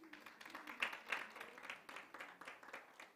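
Faint audience applause at a panel event on women in law and business, scattered claps rising and falling through the whole stretch, heard from a distance.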